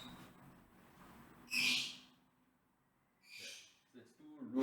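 Pet bird letting out two short, sharp screeches close by, separated by a quiet stretch with faint background noise and low murmuring.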